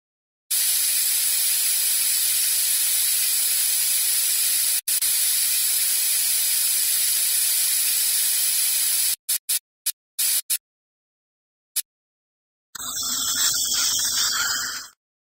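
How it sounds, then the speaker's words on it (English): Dental water spray and suction from a surgery video game run as a steady broadband hiss for about nine seconds. A cluster of short bursts follows, then a closing spray. No one speaks. "Can you spray them with water? I'll run the suction to remove the water."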